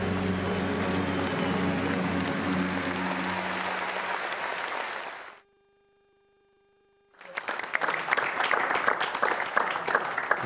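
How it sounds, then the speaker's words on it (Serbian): Loud, dense audience applause on a TV show, with a sudden break into near-silence before the clapping swells back in strongly. "Veliki aplauz stvarno za Šabana Šaulića."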